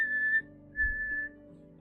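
Two short whistled notes from a person, close and moderately loud, separated by a brief gap with low background hum underneath.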